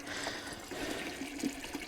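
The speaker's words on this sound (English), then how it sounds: "the bucket is filling" Water from an RV boondocking fill setup pours steadily into a bucket, giving a continuous, moderately loud rushing splash with no talking.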